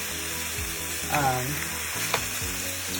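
Food fries in a pan over medium heat with a strong, steady sizzle throughout, plus a faint low hum underneath and a couple of brief stirring or lifting sounds.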